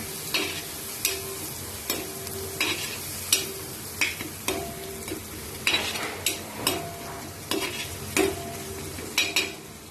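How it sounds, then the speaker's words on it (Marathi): Chili, garlic and tomato thecha stirred and mixed in a pan, a spoon scraping and knocking against the metal in repeated sharp strokes roughly every half second over a soft frying sizzle, close and clear with no talk. "आणि लसूण आणि टमाटरचा ठेचा त्याला असं छान प्रकारे मस्त हलवून घ्यायचं, मिक्स करून घ्यायचं।"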